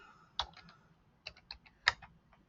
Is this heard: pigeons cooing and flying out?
no